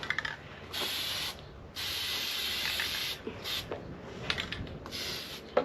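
Two long bursts of aerosol spray hissing, then shorter spritzes, close by and fairly loud, with some rustling and clicks between them.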